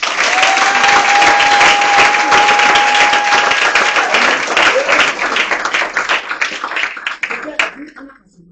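A church congregation at a Sunday service applauds loudly and acclaims Jesus, with dense clapping and raised voices filling the room, a held musical tone beneath, then fading out toward the end.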